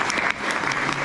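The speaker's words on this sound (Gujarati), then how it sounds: "એમને આપણે તાળીઓથી વધાવી દઈએ" A community gathering's audience claps in a brief, dense burst of applause to welcome its president, loud and continuous throughout.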